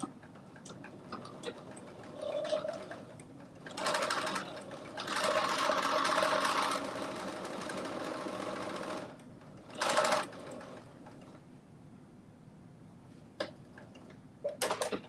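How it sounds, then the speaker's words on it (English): A sewing machine runs a long basting stitch in bursts, its needle clattering rapidly for a few seconds at a time between quiet pauses and small clicks of handling. "So I'm just doing my basting stitch"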